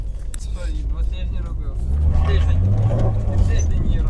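A Ford sports car's engine hums while driving, a low drone heard from inside that grows louder and fuller partway through, with people talking over it.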